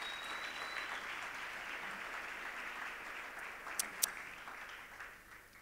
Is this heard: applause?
yes